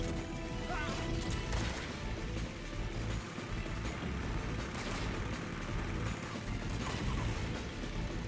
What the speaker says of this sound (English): you want to unequip the suppressor and start shooting the guards